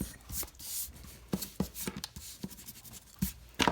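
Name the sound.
erasing pencil marks on paper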